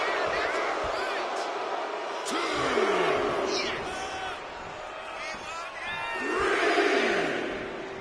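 A video game arena crowd roars and cheers in a WWE 2K25 wrestling match, a steady loud wash of voices swelling twice, with commentary-like talk over it.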